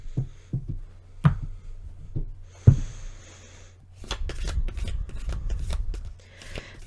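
Tarot cards handled and shuffled close by, starting with a few sharp taps and snaps, then a dense run of riffling, papery flutters and slaps, with no talking.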